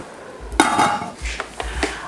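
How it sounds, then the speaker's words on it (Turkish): A cooking pot lid is set down and closed over pears simmering in a pot, giving a few sharp metallic clatters and knocks close by, with no talking. "Ve tenceremin kapağını kapatacağım."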